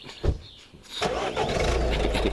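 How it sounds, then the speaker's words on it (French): A Ferrari engine cranks and catches, settling into a loud, steady idle after a short quieter lead-in with a brief knock. "le monsieur il va démarrer, ça va faire du bruit."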